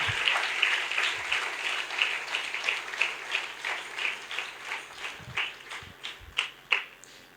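A church congregation at a healing service claps together for God, a dense, steady wash of hands that thins toward the end into a few scattered louder claps, with no voices over it.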